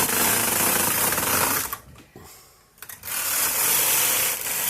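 A knitting machine carriage is pushed back and forth across rows of stockinette, giving a loud harsh rasping slide that pauses briefly midway, then resumes at full strength.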